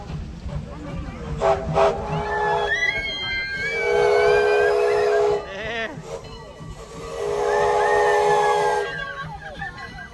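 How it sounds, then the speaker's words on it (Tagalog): A steam train's whistle shrieks in long, loud blasts, with hissing steam and rumbling rail noise around it, close by. "There's our train. Steam talaga ang gamit mo."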